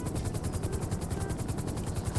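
A helicopter in GTA V hovers nearby, its rotor beating in a fast, even chop throughout the short stretch, loud and continuous with no talk over it.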